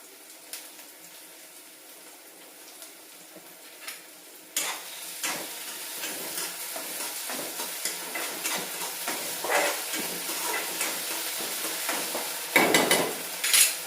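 Ginger-garlic paste hits a hot pan: a quiet opening gives way to a sudden steady sizzle, broken by repeated scraping stirs and a louder burst near the end.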